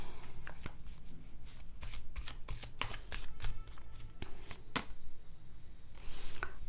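Tarot cards being shuffled by hand, a run of crisp riffling flicks and soft slides in quick bursts, close and clear with a short pause before a final flurry.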